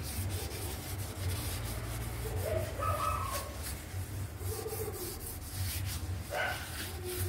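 A coir scrubber is rubbed gently and steadily over a surface being cleaned, giving a continuous soft scratching close by. A dog barks faintly in the background, and a voice is heard briefly.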